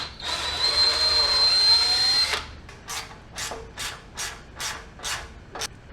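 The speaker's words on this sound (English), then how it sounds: "I'm going to take a 3/8 drill and I'm going to ream these holes out a little bit bigger" A 3/8 drill bit reams out bolt holes, first with one sustained whining bore of about two seconds, then six short separate bursts of the drill spinning up and stopping, close and fairly loud.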